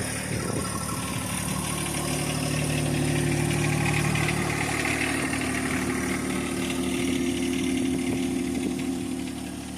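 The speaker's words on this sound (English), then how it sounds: "A little cold start action for you." A tractor engine running at idle just after a cold start, a steady low-pitched rumble that holds evenly and close throughout, with no voices.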